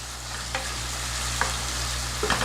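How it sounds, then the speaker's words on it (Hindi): Tomato paste is stirred into biryani masala in a pan over a soft, constant sizzle, with a few light spoon scrapes and taps spaced apart. "अब इसमें डालूंगी मैं 1 टेबल स्पून तक के टोमेटो का पेस्ट। इसे भी अच्छे से मिक्स कर लेंगे।"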